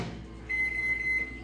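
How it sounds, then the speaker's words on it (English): A microwave oven hums steadily while heating food in a home kitchen, with a thin, steady high tone sounding for most of a second partway through. "I'm going to microwave that"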